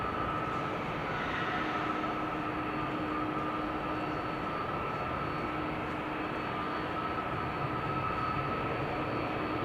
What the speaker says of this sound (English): the bonus Queen, the 747-8, is going to land on Kaagbaan